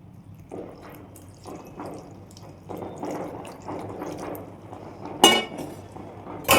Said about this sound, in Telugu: ఈ నీళ్ళని ఇప్పుడు మనం దీంట్లో పోసేద్దాం